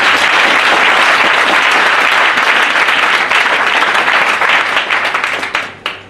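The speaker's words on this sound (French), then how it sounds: "Acclamons très pour le Seigneur." Loud, sustained applause from a congregation at a church consecration ceremony, dense clapping filling the space without a break before it thins and tapers away at the end.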